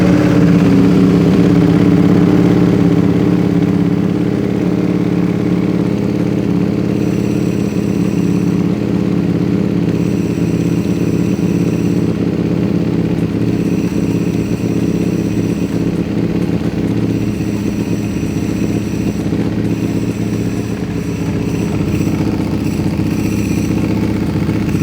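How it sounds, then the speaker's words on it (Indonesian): A Ducati Panigale V2 Bayliss Edition sport motorcycle fitted with an STM part idles loud and close, a steady rumbling engine note with mechanical clatter that holds throughout without speech. "Kita nyalain dulu. Dengerin ya suara dari motor STM ini"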